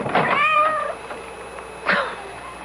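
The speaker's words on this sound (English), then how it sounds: "That cursed cat." A cat meows at a front door in a radio drama, two or three distinct close meows separated by a quiet pause, with faint room noise between.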